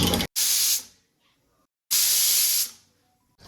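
Two loud bursts of hissing steam from a pressure cooker being opened, each lasting under a second, separated by a short pause, close and forceful like pressure being released.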